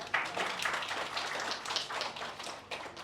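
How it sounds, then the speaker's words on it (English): Audience applause at a school orientation day event, a scattered, moderately faint patter of clapping from a crowd with no talking. "Please give them a big round of applause."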